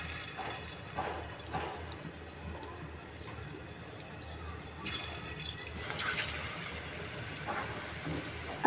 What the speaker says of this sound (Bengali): এখন আমি পাকোড়াগুলোকে ভেজে নিচ্ছি।